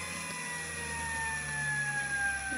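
A Toyota hybrid motor-generator with its case removed spins under electronic throttle control, giving a steady high electric whine with a slowly sliding pitch over a low hum.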